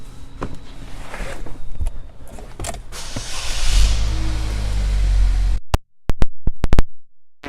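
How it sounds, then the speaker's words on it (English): The power moonroof of a 2017 Chevrolet Equinox opening: a rising motor whir builds and holds for a few seconds, then stops, followed by a series of sharp clicks and knocks. "Power moonroof."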